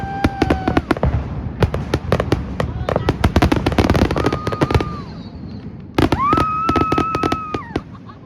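Fourth of July fireworks go off nearby in loud, rapid crackling bursts with sharp pops and whistling rising tones, several volleys in a row, while a person talks over them.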